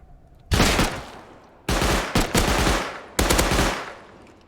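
Gunfire from weapons in the survival game Rust, heard as three loud bursts of rapid automatic fire, close and sharp, the first and last long and the middle one broken into shorter volleys, with no talking.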